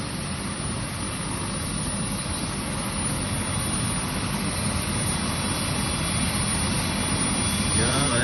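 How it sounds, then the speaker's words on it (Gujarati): Helicopter engine and rotor roar steadily and loudly at close range as the aircraft waits to depart for Kedarnath, a constant dense whine with no break. "વલ્લભભાઈ હવે હેલિકોપ્ટરમાં છે ને જવા માટે તૈયાર છે."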